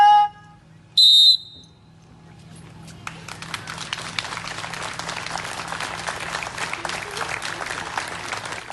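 Outdoors at a memorial for a young swimmer, two short whistle-like tones sound, then after a quiet pause a crowd of young swimmers breaks into long, steady applause that carries on to the end.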